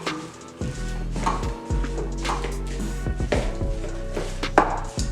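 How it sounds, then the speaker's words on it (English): A spatula scrapes and knocks as it stirs mincemeat in a pan for meatballs in pasta sauce, producing repeated close wooden taps and scrapes over a low hum, with no talking. "I'm going to bring the mincemeat forward, and I just stir it all in with a spatula."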